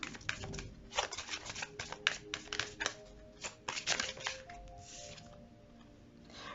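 Tarot cards being shuffled by hand close up, a quiet run of rapid riffling flicks and slaps in uneven bursts that gradually thin out toward a soft rustle.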